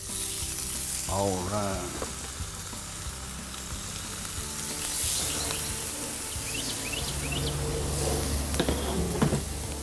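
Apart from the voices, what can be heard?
fish sizzling on a griddle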